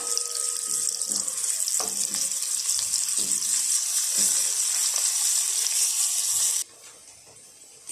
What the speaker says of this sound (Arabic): يحمس عندنا طبعا البصل كل الزين ويذبل لونه ويتغير